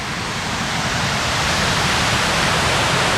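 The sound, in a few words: Sultan waterfall on the Dzhily-Su road, Caucasus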